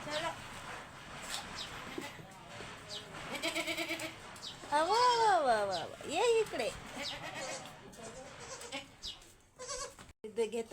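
Goats bleat on a farm, several wavering calls rising over a steady background of people talking nearby, with the loudest bleats in the middle.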